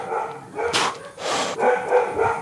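Dogs barking nearby during a workout of front squats and push presses, with a few loud, broad bursts scattered across a couple of seconds over steady background noise.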